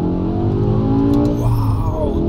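BMW M5 Touring (373 kW) engine revving hard while driving quickly through a forest, a loud sustained roar with rising and falling pitch close up, no talk over it.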